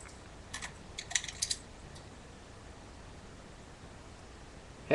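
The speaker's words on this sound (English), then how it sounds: "I can hear you typing" Clicky keystrokes on a computer keyboard come in a few quick bursts over faint background hiss, fairly close and otherwise alone.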